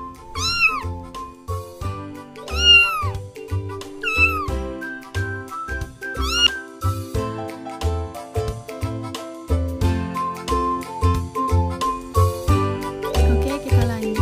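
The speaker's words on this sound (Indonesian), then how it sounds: "Kalau suara kucing seperti ini ya." A cat meows repeatedly in a children's animal-learning setting, four clear rising-falling meows spaced about two seconds apart over a steady bouncy music track with chimes, no voices.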